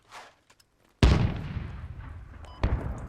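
Anti-tank weapon fire in the video game Squad strikes an enemy IFV, heard as a sharp, loud blast with a rumbling tail, followed by a second booming impact a moment later.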